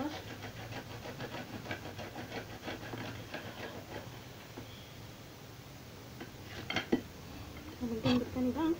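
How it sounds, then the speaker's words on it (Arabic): An onion is rubbed against a grater in quick, rhythmic rasping strokes, close and steady, then pauses amid kitchen clatter and a brief voice near the end. "نبشر البصلة كويس"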